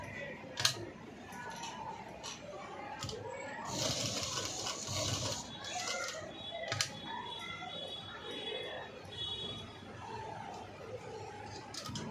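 A sewing machine running a close edge stitch along a V-neck cut-work blouse, quiet mechanical whirring in bursts with small clicks, and a voice talking faintly over it.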